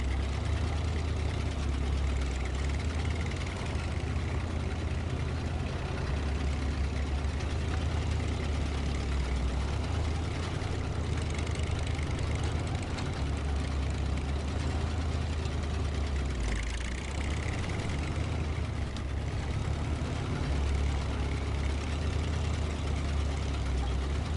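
Truck engine in the off-road driving game SnowRunner, running with some engine damage: a steady low rumbling drone with no break across the whole stretch, loud and close, with no talking over it.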